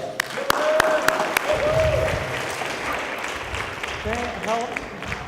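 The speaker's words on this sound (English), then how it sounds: "let's give a round of applause for Dylan Sakurai" Audience applause for Dylan Sakurai at a student research poster session, a broad steady wash of clapping with a few sharper claps, while a voice speaks over it at moments.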